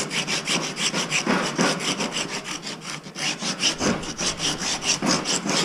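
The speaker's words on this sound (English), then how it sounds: "Just scratch up this entire 14-inch riser section." A rasp or file scratches up the 14-inch wooden riser section of a bow, a close, loud, rhythmic back-and-forth rasping in fast, even strokes that continues throughout with no voices.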